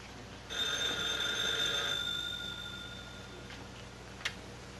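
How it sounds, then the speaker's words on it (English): An old-fashioned telephone bell rings in a 1940 comedy film scene, a steady electric trill lasting about two seconds before fading under room tone, followed by a brief faint click. "Dagwood, the phone."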